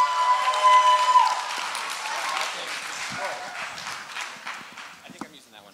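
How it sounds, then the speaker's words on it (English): Chapel audience applauds as a pastor comes up to speak, a dense burst of clapping that starts loud and slowly thins out over several seconds, with a few voices rising through it. "Will you guys give a round of applause to Pastor Nyland as he comes up and shares today?"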